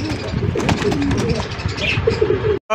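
Pigeons cooing at a busy pigeon market where birds are sold, with loud overlapping coos and rustling close by, background voices, and a brief cutoff near the end.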